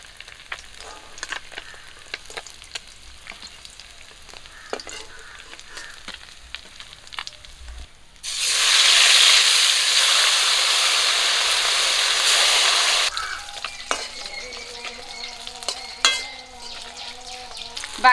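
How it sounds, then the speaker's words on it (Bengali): Small Japanese puti fish frying in hot oil: quiet clinks and handling at first, then a loud, steady sizzle for about five seconds that cuts off, followed by softer utensil scrapes. "বাকি মাছগুলো ভাজা হয়ে গেছে"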